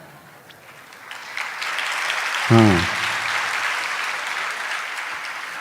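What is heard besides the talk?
audience applause at a sermon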